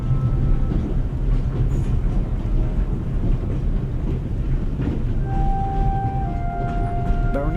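Train running in the video game The Raven, heard from inside a freight car: a continuous loud rumbling rattle with steady rolling clatter, plus a thin whine appearing near the end, with no one talking.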